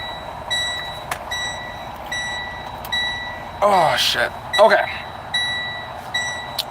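Regular high-pitched truck reversing beeps repeat steadily, with a person speaking briefly over them midway.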